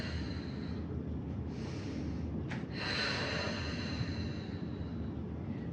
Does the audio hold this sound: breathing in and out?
yes